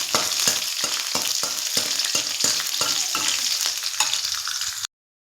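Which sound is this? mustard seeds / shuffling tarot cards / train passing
mustard seeds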